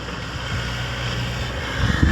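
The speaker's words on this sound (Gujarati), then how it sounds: "આ ટ્રેક્ટર છે." A tractor engine runs steadily with a low rumbling drone, moderately loud with no talking, and a short louder thump near the end.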